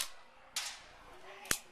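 Single semi-auto shot from an airsoft gun powered by a 9.6 volt battery, a sharp close crack standing alone after a brief quieter click.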